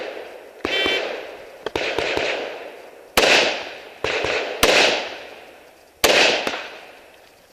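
Rifle shots ring out on a tactical shooting stage: five or six sharp, loud reports in an uneven rhythm, each followed by a long echoing decay. A brief high tone sounds near the start.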